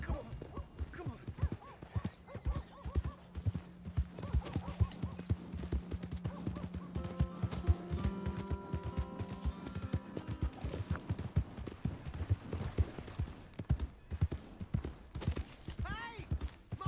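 Horse hooves clip-clop in the Red Dead Redemption 2 video game, a steady rhythmic trot close by with scattered game sounds and a brief sustained tone in the middle, fairly quiet throughout.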